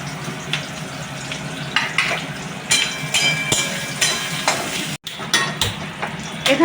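Onions fry in hot oil in a pan for a Bengali mutton liver dish, with a continuous close sizzle broken by repeated spatula scrapes and knocks against the pan and a brief lull midway.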